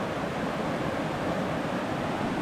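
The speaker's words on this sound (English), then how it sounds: "Back at the river." River water flows in a constant, broadband wash that stays level and close for the whole stretch, with no talking or other distinct sounds, beside a river on Vancouver Island.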